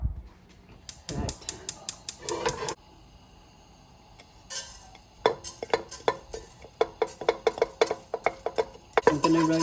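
A spatula stirs ground garlic, ginger, chili and onion paste roasting in a pan for Punjabi channa masala, making bursts of quick, rhythmic scrapes and clacks broken by short pauses.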